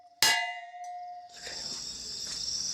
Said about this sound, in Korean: 정막을 깨우는 종소리가 울려 퍼집니다.